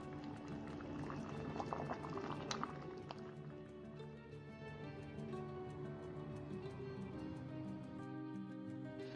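Sugar syrup (agda) for baklava boils with sliced lemon in a pot, a steady close bubbling and gurgling that runs throughout at a soft, even level.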